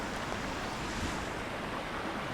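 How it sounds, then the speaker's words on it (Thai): Steady, dense rush of a waterfall flowing and splashing over rocks and sloping rock slabs at Wa Phu Kaeo in Korat, Thailand, continuous and full-bodied without pause, no voices. "ลักษณะน้ำตกที่นี่นะครับ ก็จะไหลผ่านโขดหินและลาดผานะครับ"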